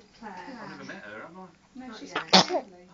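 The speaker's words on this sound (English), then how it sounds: "Little sneeze in the back there" A single quick sneeze from someone in the background of a radio studio chat, sharp and brief, cutting in right after people talk.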